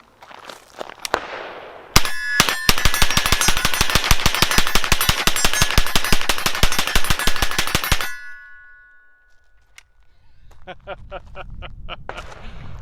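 A CZ Scorpion emptying a full Magpul PMAG EV9 magazine, a long rapid burst of loud sharp shots with ringing metallic clangs, then a brief pause and a few trailing clinks as echoes fade.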